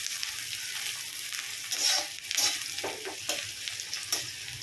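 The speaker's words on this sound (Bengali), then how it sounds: "প্রথমে দেখো কড়াই সর্ষে তেল দিয়ে তার মধ্যে আমি দিয়ে দিচ্ছি পেঁয়াজ কুচিগুলো।" Chopped onions frying in mustard oil in a wok, a steady close sizzle broken by several scraping stirs of a spatula.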